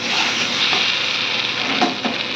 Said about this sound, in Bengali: মশলাটা প্রায় হয়ে গেছে কষানো আমার